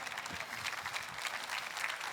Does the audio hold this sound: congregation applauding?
yes